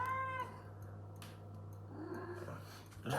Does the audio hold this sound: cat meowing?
yes